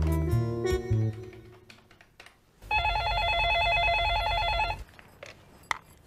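Telephone dialing with steady tonal beeps in the middle of the clip, loud and continuous for about two seconds, preceded by a short burst of music and followed by quieter handling clicks.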